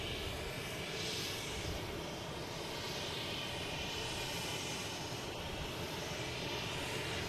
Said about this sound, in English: a smaller jet, a Baker Aviation, the Cessna Citation 10, heading to Philadelphia